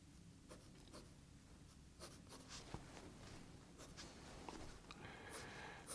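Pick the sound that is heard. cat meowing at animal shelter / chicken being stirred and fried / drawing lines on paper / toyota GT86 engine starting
drawing lines on paper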